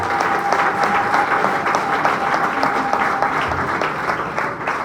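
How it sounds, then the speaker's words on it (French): An audience in a hall at a political gathering applauds warmly, with dense, steady clapping that holds at an even level for about five seconds and no voices rising above it. "je vous demanderai de l'applaudir chaleureusement"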